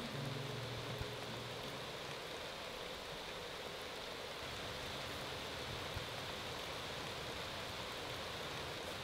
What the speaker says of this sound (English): this rain is so magical